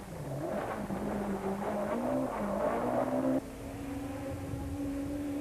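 A Volkswagen Golf Synchro rally car roars along a rally stage in 1993, its engine droning and rising in pitch through the gears before a sudden shift, loud and close throughout.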